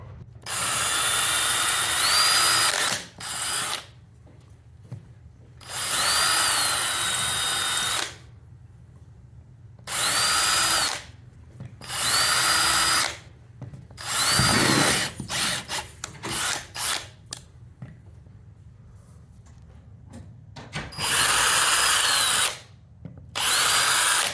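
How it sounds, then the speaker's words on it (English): A power drill whines in repeated bursts, boring into a wooden wall stud, with short pauses between each run; close and loud. "That's where we drill our big hole. Let's go ahead and do that now."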